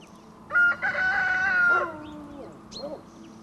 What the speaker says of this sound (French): le chant du coq se dit chantejaille